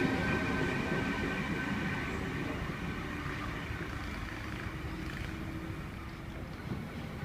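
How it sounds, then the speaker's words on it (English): NSW TrainLink Explorer diesel train on a Moree service arriving into platform 3 at Wyong, a steady broad rumble and engine drone that slowly eases, with faint wind noise on the platform. "Trainlink Explorer arriving into platform 3. Moree service."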